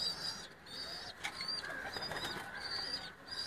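Pigeons kept by a fancier in Kot Ishaq, Hafizabad district, give soft repeated coos, faint and low against a quiet background hiss.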